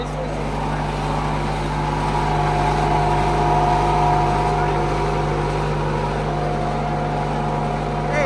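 A generator runs steadily in an outdoor setting, a loud continuous engine drone with a constant low hum that holds unchanged from start to finish and masks any quieter sounds.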